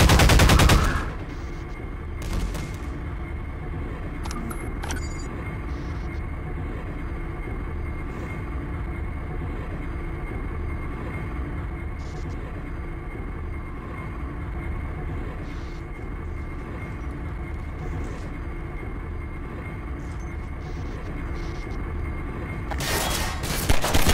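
Sustained gunfire and weapon noise from a Half-Life 2 firefight with a crossbow and a magnum revolver, a dense, steady roar of shots and rumble running unbroken for the whole stretch, with sharper bursts at the start and end.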